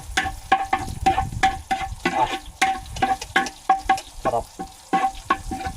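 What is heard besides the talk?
garlic being sautéed in a pan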